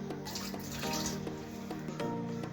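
Raw beef rinsed in a kitchen sink under a running tap, a steady close rush of water with splashes and knocks as the meat is handled, no voices.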